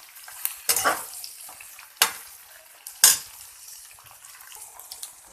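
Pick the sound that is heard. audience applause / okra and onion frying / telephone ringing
okra and onion frying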